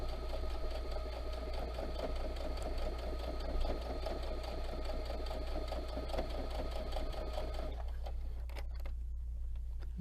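Sewing machine stitching along the top of a zipper pouch, a steady close whir with a low motor hum that stops shortly before the end, leaving faint handling noises.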